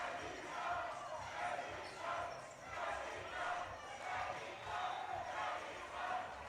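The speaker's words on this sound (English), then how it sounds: "Oh, okay, they're cheering Mexico." A crowd cheers for Mexico at a world dodgeball championship match, rhythmic chanting and shouting swelling in repeated waves, heard at a distance across a large arena.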